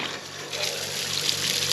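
Water runs in a steady, close rush from a repaired farm water line, even and unbroken, with nobody talking.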